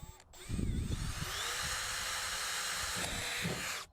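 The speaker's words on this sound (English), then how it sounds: "Drill your pilot hole and then switch to your larger bit." A power drill bores a small pilot hole into aluminum L track, a steady high whine running almost continuously after a brief start, with a few low knocks near the beginning and end.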